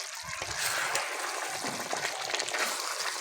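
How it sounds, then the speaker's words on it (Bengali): Chicken with peas is stir-fried in a pan with no water added, a faint, steady sizzling hiss with soft scraping and stirring noises throughout. "মাংসটাকে ভালো করে কষিয়ে নেব"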